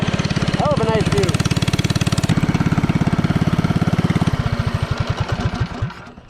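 Small single-cylinder engine of a Doodle Bug mini bike runs steadily and loud throughout while being ridden down a road, with a rapid, buzzing firing rhythm that shifts pitch partway through; a voice is briefly heard over it.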